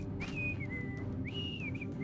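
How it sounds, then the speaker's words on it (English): Whistling from a character in a GameCube video game, two clear sliding whistled phrases, each held and then dipping in pitch, over a steady low game background. "Now he's whistling."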